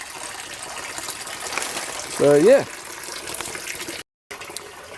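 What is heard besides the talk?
water flowing out of grow bag circulation system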